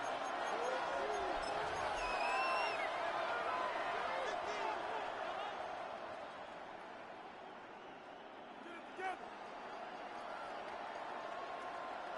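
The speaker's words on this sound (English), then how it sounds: "This Buffalo crowd letting them have it." Large football stadium crowd in Buffalo roaring and jeering as a steady wall of noise, swelling and easing, with occasional whistles and shouts rising above it.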